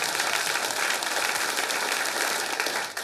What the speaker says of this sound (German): Ja, kann man jetzt auch klatschen, auch wenn es gemein ist.